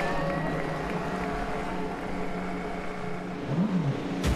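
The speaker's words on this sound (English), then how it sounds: "27 Indy cars firing up, ready for 100 laps, 180 miles" Twenty-seven IndyCar race car engines fire up on the grid at the 2024 Firestone Grand Prix of St. Petersburg street race, a dense, steady roar under crowd noise, with one engine revving upward near the end.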